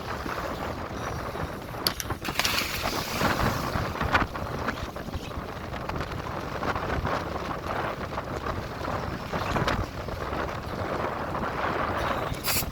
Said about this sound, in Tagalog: Malakas na ulan na yan. At saka hangin.